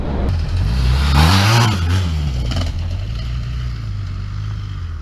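BMW F800GS Adventure 2017 motorcycle rolling down a soft sandy dirt track, its engine note rising in a loud surge early on and then easing to a steady low rumble under wind noise.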